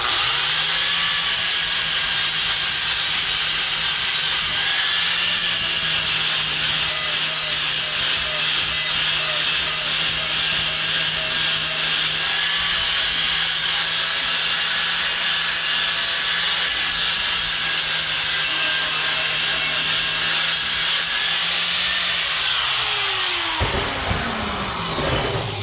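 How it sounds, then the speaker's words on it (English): A power sander grinding steadily across a metal coffin skull build, producing a loud, continuous high-pitched abrasive whine with a low motor hum that runs for over twenty seconds before winding down near the end. "Now we'll sand that down just to give it a pretty shiny sand"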